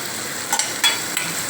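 Onions and spices sautéing in a pan while eggplant kadaisal is being made: a steady close sizzle with a few brief stirring scrapes, no talking.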